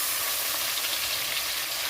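Tomato dropping into hot oil with black cumin and garlic for a spicy small-fish curry, giving a steady, close, bright sizzle that stays even throughout with no talking.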